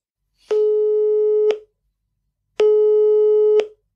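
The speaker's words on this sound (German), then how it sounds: "ich rufe Karl-Heinz Kaas." Two steady telephone busy-signal tones sound while a call is being placed, each about a second long with a short gap, clear and close with no talking.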